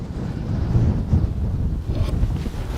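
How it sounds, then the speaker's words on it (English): Strong wind buffets the microphone in a continuous low roar with gusty swells, loud and close, with no voices, on the misty hilltop of Sharp Tor, Dartmoor. "So this is very windy and misty Sharp Tor."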